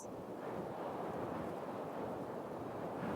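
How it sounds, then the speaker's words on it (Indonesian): Strong gusting wind is layered into anime sound design for a windy scene in Fate Stay Night Heaven's Feel III, a steady broad roaring rush that holds evenly for about three seconds with no voices. "ini gue tambahkan suara angin yang kayak menjelaskan angin kenceng gitu"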